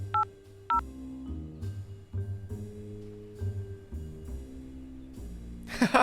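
A phone number dialed in the video game Frog Detective 2: a few sharp electronic keypad tones, followed by a low ringing tone that repeats at a steady pace, heard close and clear.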